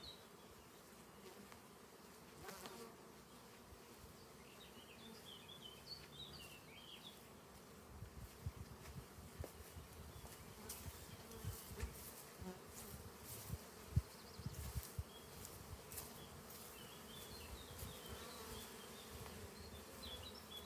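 Honey bees buzzing around wooden nucleus beehives with four queen compartments at a breeding apiary, a continuous soft drone of many insects with individual bees passing close now and then, no talking.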